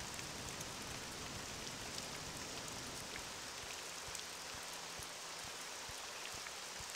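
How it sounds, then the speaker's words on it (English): Steady rain falls in the video game Morrowind, a constant soft hiss of drops on the ground with faint low ambient tones underneath, no voices. "It's raining for a while."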